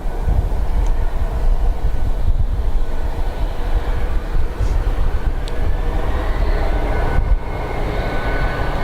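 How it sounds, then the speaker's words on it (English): An Embraer jet takes off from Dublin Airport bound for London City, a steady, broad engine roar that holds at full strength throughout without a break. "So Embraer off to London City."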